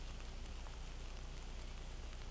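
Heavy rain falls steadily across an outdoor disc golf course, a constant faint hiss of drops on the ground with no breaks and no voices.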